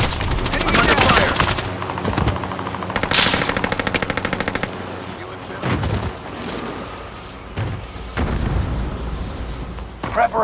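Sustained machine gun fire in the video game Warzone, loud and close, with rapid rattling bursts and explosive booms over about ten seconds.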